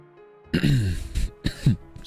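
A person clears their throat and coughs twice, short rough bursts close up with brief pauses between them.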